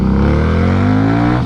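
A Harley-Davidson Street 750 motorcycle with a slip-on exhaust revs loud and close under a bridge. Its steady, throaty engine tone climbs in pitch across the short burst.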